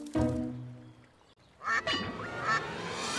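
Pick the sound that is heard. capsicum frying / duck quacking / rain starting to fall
duck quacking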